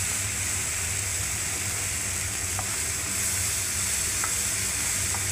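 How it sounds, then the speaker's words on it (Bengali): Onions fry in a pan on a gas stove, giving a steady close sizzle and crackle with faint stirring taps, continuous and without talk. "পেঁয়াজগুলোকে ভেজে নেবো ভালো করে, দেখুন"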